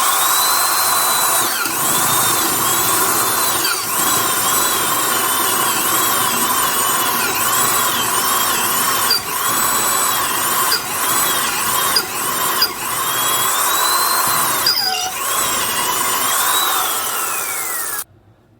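A loud Rockwell 3/8-inch commercial duty corded drill, 3 amp and 1000 RPM, whines steadily as it bores into wood with an installer's bit, its pitch dipping and rising under load with brief catches, then winding down at the end.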